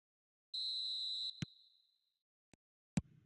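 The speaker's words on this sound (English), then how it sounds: "Whistle goes, and we start the second half." A referee's whistle in the eFootball video game blows one sustained, fairly loud blast to start the second half, followed by a few brief sharp knocks, with no voices over it.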